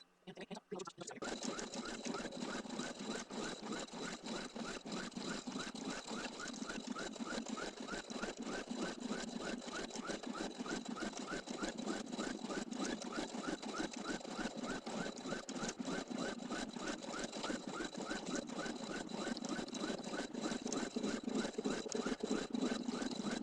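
A sewing machine runs steadily for over twenty seconds, stitching a Leprechaun's Pot O'Gold design with a fast, even mechanical chatter and a constant hum. No one speaks.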